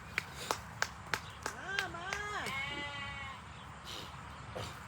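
Sheep bleat outdoors on a farm pasture, with several wavering calls rising and falling at middling distance, interspersed with sharp clapping or tapping sounds and background noise.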